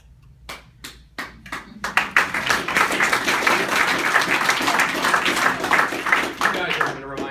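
Applause breaks out from an audience at a Keller Williams real estate sales meeting in an office, starting with a few scattered claps and swelling into sustained, dense clapping with some voices mixed in.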